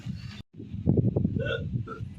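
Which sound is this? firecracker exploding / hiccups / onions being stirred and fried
hiccups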